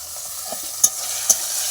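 Tomatoes go into potatoes frying with green chillies and cumin paste in a pan, giving a steady sizzle with a few sharp scraping stirs of the spatula, close and without talk.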